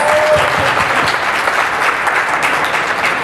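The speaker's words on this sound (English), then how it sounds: "everyone give her a round of applause" Loud, dense applause from a dinner audience at a business improv event, welcoming the first interviewer with steady continuous clapping throughout.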